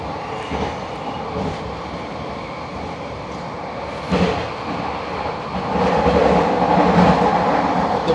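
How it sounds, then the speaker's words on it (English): A SkyTrain rapid transit car in the Vancouver area rides along its track with a continuous rumbling roar and rattle from inside the car, swelling louder in the last few seconds. "Out here on the train."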